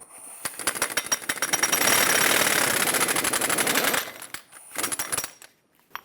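A power tool rattles in rapid hammering bursts, loud and close, removing a tight front axle nut on a 2003-2009 Dodge Ram 2500, with a long sustained run followed by a few short stop-start blasts.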